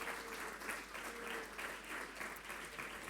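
Church congregation applauding during a Spanish-language Sunday communion service, a steady wash of dense clapping filling the whole stretch at moderate distance, with no voices over it.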